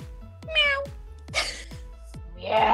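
A person imitating a cat, giving several short nasal meows in a row, close to the microphone, with soft background hum between them.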